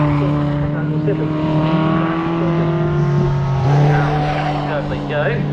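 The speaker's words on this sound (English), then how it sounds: "You've got the number 12 car of Tom Robinson now coming under pressure from 50" Mazda race cars in a Yokohama series race at Snetterton roar along the track together, steady high-revving engine drone layered with shifting pitches that swell as cars close in and pass, loud and continuous with a commentator talking over it.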